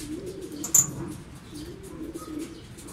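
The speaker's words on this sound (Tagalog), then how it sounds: "dumadating na yung kasunod na ibon na galing Padre Burgos" Racing pigeons arriving coo softly nearby with a brief chirp and a flutter of wings, over quiet outdoor background.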